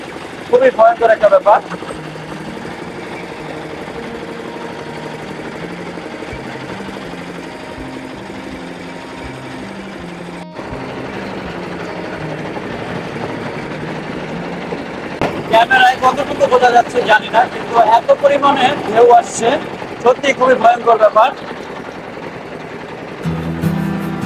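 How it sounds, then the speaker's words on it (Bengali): A trawler's engine drones steadily as the boat rocks in waves mid-river on the Meghna, a low continuous hum with bursts of clattering and wind, partly under people talking. "মেঘনা নদীর মধ্যখানে এত পরিমাণে ঢেউ ট্রলার এমনভাবে কাঁপাচ্ছে"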